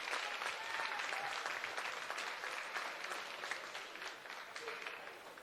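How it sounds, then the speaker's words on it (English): Sustained crowd applause in a gym at a high school boys basketball game as an injured senior guard gets helped up, dense clapping that slowly fades, with faint voices mixed in. "A round of applause from everyone."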